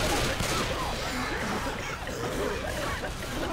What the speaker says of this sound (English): Okay, suppressing fire!